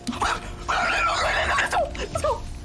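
A gamer imitates a dog barking during a Fortnite build-fight stream, a few short yipping, whimpering bark-like vocal bursts from a human voice, close and loud.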